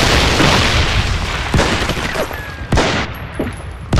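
Explosions and rapid gunfire fill a battle in Medal of Honor Vanguard on PS2, loud overlapping blasts and bursts of shots with sharp booming hits scattered throughout, dense and close.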